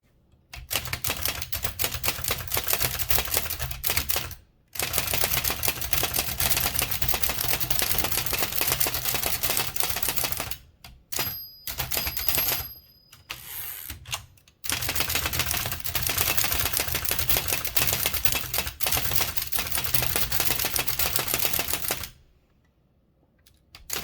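A Hammond Multiplex typewriter clacking in long bursts of rapid mechanical strikes, loud and close, broken by a few short silences, with a sharp click among the pauses as the margin bar is pressed into place.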